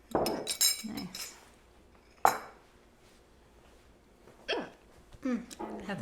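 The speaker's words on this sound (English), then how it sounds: "Have the hiccups" A person hiccups while cooking a Southwestern salad with cilantro dressing; a few sharp, isolated hiccup bursts stand out amid light clinks of dishes and cutlery, with talk around them.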